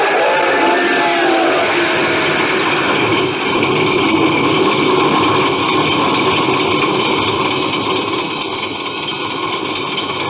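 A heavy car engine, just started, runs in a steady, droning idle, loud and continuous, with no voices.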